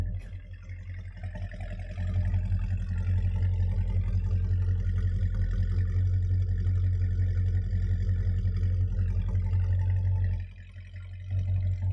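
A 1969 Dodge Charger R/T engine idles steadily with a deep, loud, rumbling low drone held for several seconds, briefly dropping off near the end before picking back up.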